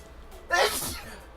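A single sharp sneeze bursts out close by, loud and sudden, then fades into quiet room noise.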